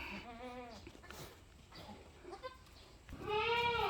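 Newborn goat kids bleat in short, wavering cries, one near the start and a louder one at the end, with quieter bleats between, all faint against a soft barn background.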